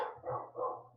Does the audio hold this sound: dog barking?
yes